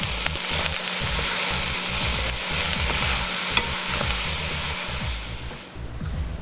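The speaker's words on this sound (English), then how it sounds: "I'm going to add 1/4 of a cup of light brown sugar and just stir it around a little bit." Brussels sprouts and onions sizzle steadily in a hot pan as light brown sugar is stirred through, with repeated close scraping strokes over a constant frying hiss; no one speaks.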